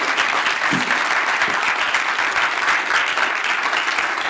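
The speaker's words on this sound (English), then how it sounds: "A round of applause to our speakers." Steady, dense applause from a live event audience thanking the speakers, loud and continuous throughout with no break in the clapping.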